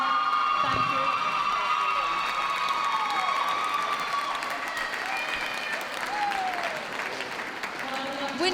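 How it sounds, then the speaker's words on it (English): An audience at the WELKS 2012 championship dog show applauds and cheers steadily for several seconds, a dense wash of clapping with scattered whoops and shouts. "Please give them a round of applause."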